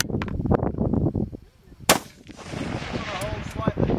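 A single sharp rifle report cracks out at a long-range target shooting session, loud and close, amid outdoor talking before and after.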